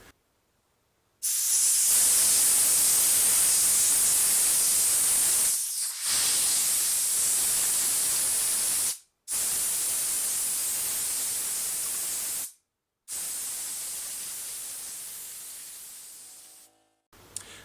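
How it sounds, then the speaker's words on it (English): Compressed air blasts Hookwash cleaner and loosened debris out of a sewing machine's rotary hook, a loud, close, steady hiss in four long bursts separated by brief pauses, with no talk. "we need to just blow out the rest of the Hookwash, and it'll get the rest of the debris that's loosened up in there."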